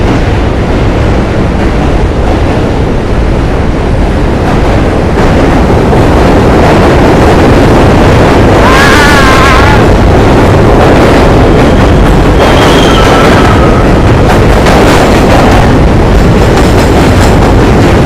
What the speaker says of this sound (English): I'd rather hear the train than the K-pop.